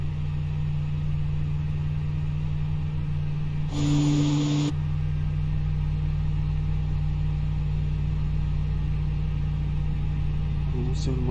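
Aircraft engine spinning up in a flight simulator on a Casablanca to Ouarzazate route, a steady droning hum with a brief whirring surge partway through, under faint talk.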